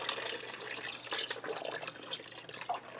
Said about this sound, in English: I'm going to add some water in here.